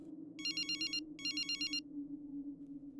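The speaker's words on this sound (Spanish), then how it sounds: "mi teléfono sonó." A mobile phone ringtone plays two short bursts of bright electronic trilling over a quiet, steady low hum in an otherwise still room.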